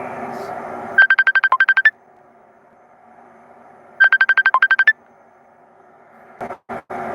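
An incoming-call phone ringtone plays two bursts of rapid electronic trilling tones a few seconds apart, clear and close over a low background hum, followed by a few short beeps.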